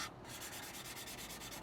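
Sandpaper rubs along a plastic model kit seam line on a 1/48 Airfix BAe Hawk T1, giving quick rhythmic scratchy strokes, close and soft, with no talking.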